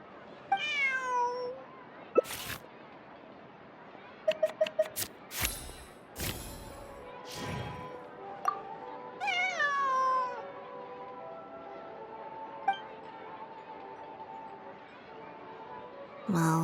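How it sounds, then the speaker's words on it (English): A cat meows several times in Genshin Impact, giving rising, drawn-out calls spaced across the stretch between soft scattered sounds and a few sharp clicks. "it's far more likely this cat escaped from the Humane Society"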